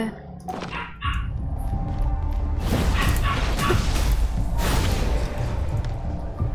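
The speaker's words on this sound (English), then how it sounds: "Why is the dog so loud?" A dog barks loudly and repeatedly in the foreground, with whimpering yips between barks, during a Genshin Impact gaming stream.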